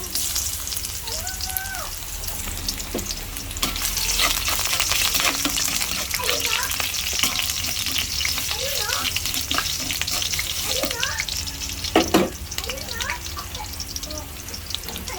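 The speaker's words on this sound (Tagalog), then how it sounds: "Gisa muna tayo ng bawang" Garlic hits hot oil for a chopsuey base, and a bright sizzle swells after a few seconds and holds steady while a person talks over it.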